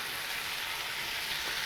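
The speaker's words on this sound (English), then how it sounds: "This is the stew just sizzling away in my Dutch pot." Pork stew with onion, bacon and garlic sizzling in a Dutch pot: a steady, dense crackling hiss throughout, close and continuous, with no talking.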